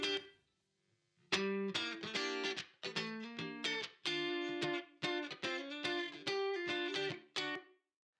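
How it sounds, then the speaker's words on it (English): Electric rhythm guitar strums in choppy bursts with a short reverb tail ringing after each chord, played alone and fairly loud. "we're now adding a little bit of reverb to the rhythm guitar"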